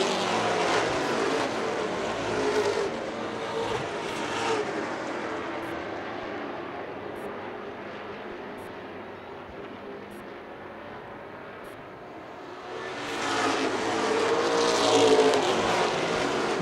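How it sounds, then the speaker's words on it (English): Pro stock race cars roar around a track in a pack, engines loud and close at first, fading into the distance, then swelling again as the field sweeps back past. "Nick Hinckley not letting that 18 car of Kevin Douglas get away right there"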